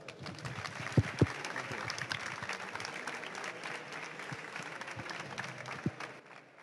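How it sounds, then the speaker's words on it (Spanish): A conference audience applauds a speaker with steady, moderately distant clapping, a few sharper individual claps standing out near the start and end. "Un gran aplauso para Pau."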